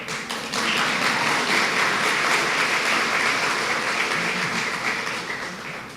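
A crowd applauds steadily at a governor's tourism campaign announcement, dense clapping that swells quickly, holds for several seconds, then begins to fade.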